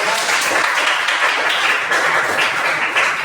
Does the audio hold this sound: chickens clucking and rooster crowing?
no